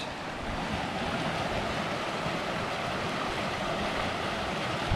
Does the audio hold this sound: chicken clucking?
no